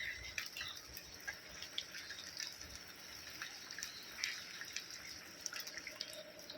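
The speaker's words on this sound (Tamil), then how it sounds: "மழை பெய்துகிட்டே இருக்குது." Steady rain patters and drips nearby, a continuous wet hiss with scattered sharper drops and no voices.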